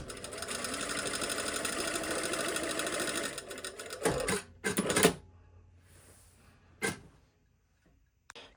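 A domestic sewing machine runs steadily at normal stitch length, understitching a seam allowance to the edge of a welt pocket, then stops, followed by a few handling clunks and knocks before near silence.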